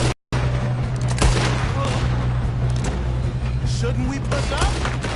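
Gunfire during a shootout in Red Dead Redemption 2, with bursts of shots and booms mixed with shouting voices, loud and busy over a constant low hum.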